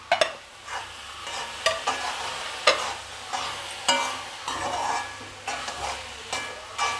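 Plantain pieces with sugar being stirred and sautéed in a pan, a steady sizzle broken by repeated sharp scraping strokes of the spoon against the pan, close and fairly loud, with no voices.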